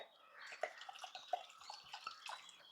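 Water poured into a clay pot holding washed jackfruit seeds, a close, splashing trickle with small drips and knocks spread across a few seconds.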